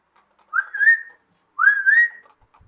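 A person whistles two clear rising notes, each with a short glide, separated by silence and heard alone.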